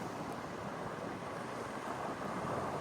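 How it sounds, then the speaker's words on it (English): Sea water surging and splashing from a low coastal blowhole, a steady broadband wash of surf with wind noise on the microphone, loud and continuous without distinct bursts. "It's done some dramatic splashing."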